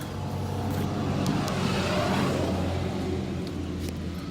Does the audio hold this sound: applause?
no